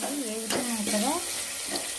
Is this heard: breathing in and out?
no